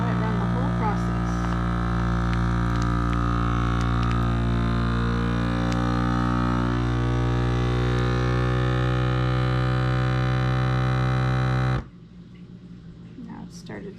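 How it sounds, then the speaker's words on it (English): A vacuum sealer runs its sealing cycle with a steady loud motor hum and buzz for about twelve seconds, then stops abruptly, leaving quiet room noise. "We're going to hit vacuum seal and let it run the whole process."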